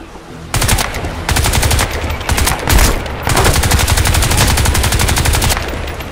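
Automatic rifle fire in Crysis 2 Remastered, loud, close bursts of rapid shots with brief gaps between them and no talk over them.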